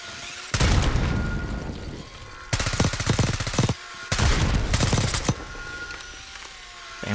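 Automatic gunfire in Call of Duty Black Ops 6, three loud bursts of rapid shots of about a second each, separated by quieter pauses.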